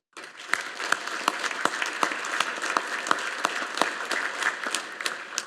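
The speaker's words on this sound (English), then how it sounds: "Please join me in a round of applause for our loved ones." Audience applause at a U.S. Naval War College fall graduation ceremony, a dense, steady round of clapping from a large crowd filling the hall, with no talk over it.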